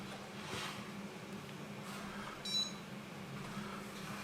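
A Weber Connect Smart Grilling Hub thermometer powering on, giving a short, faint electronic beep near the middle against quiet room hum.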